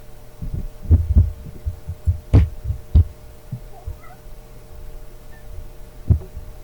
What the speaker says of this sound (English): The vibration of their running and jumping and stuff comes into the booth.